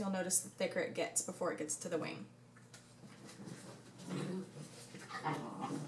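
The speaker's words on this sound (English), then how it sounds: "you can hear my dogs playing with each other in the background" Dogs play with each other in the background, with whimpers and small growls sitting faintly under steady, close talk.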